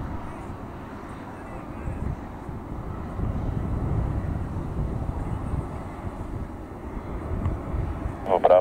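A Boeing 747-446 BDSF cargo freighter rumbles at an airport as a steady, broad engine roar with wind buffeting, moderately loud and sustained throughout.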